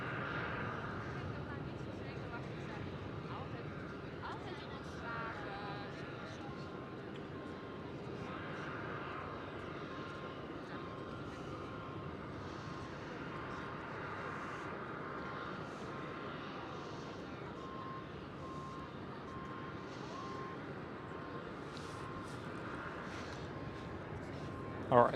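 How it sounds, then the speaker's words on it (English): A Transavia Boeing 737-800 arriving at Amsterdam Schiphol from Salzburg gives a moderate, distant-sounding engine hum with tonal whine, steady throughout, under ongoing talk, ending with a brief sharp knock. "Right here we do have Peter Pan, Transavia 737 800,"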